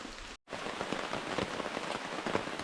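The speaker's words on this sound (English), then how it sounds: "as the heavy rain continues" Heavy rain pours steadily on the Lithuanian wilderness, a dense close hiss of drops striking surfaces that drops out for an instant before resuming.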